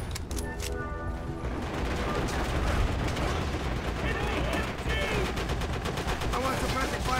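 Machine gun fire in the video game Call of Duty: World at War, dense overlapping bursts of automatic fire and gunshots, loud and close, with voices talking over the battle.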